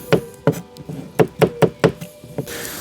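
Young garlic being chopped coarsely on a wooden board, about eight sharp, close knife knocks in an uneven rhythm with brief pauses between them.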